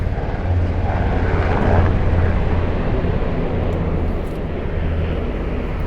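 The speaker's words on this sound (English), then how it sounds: "I hear that helicopter." A helicopter roars overhead along a waterfront, a loud, steady engine drone that swells a little near the middle and then holds as it passes.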